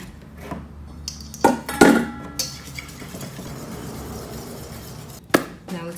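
Egg whites for tamagoyaki are broken up in a bowl: a few sharp clinks and scrapes of utensil against the dish stand out over a quiet background, with scattered softer taps between them.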